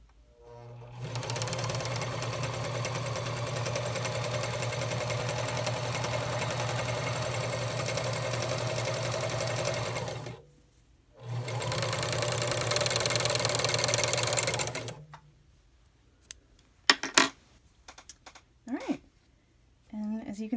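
A Simplicity Easy Lock SL800 serger sews a rolled hem in a long, steady, loud mechanical whir. It stops briefly, runs again, then falls silent, leaving scattered small clicks and handling noises.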